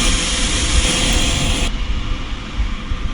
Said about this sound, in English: even though this is a VC-9, is a really loud airplane, so there won't be much dialogue out here